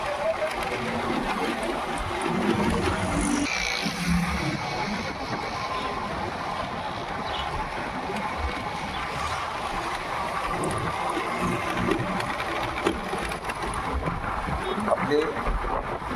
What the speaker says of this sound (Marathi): बाईक घेऊन आपण निघलेला आहे.